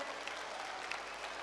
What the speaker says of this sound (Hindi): जोरदार ताली बजा करके हम सब पूरा बागेश्वर परिवार स्वागत करें।